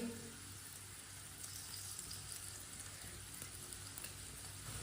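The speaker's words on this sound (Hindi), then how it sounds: "अब इसमें पराठा डाल लेंगे जो हमने तैयार किया है। एक चम्मच ऑयल और लगा लेंगे।" A paratha fries in oil in a pan, giving off a faint, even, continuous sizzle with no talking.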